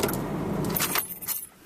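A truck's engine dies out as it is shut down after backing up, followed by a close, bright jingle of keys in short bursts before the cab falls nearly quiet.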